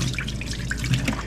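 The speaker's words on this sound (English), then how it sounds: "Dirty water release." Dirty water draining out of a robotic floor mop after rinsing, a close, steady trickle and dripping of liquid with small splashes over about a second, no voices.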